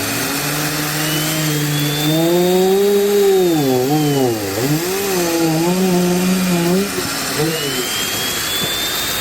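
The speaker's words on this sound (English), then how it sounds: "Rude with this chainsaw." A chainsaw cuts timber for a timber-frame sugar shack, its engine droning loud and close, rising and falling in pitch as it bogs into the wood and revs back up.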